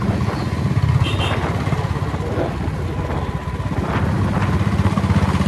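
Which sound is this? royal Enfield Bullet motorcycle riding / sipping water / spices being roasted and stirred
royal Enfield Bullet motorcycle riding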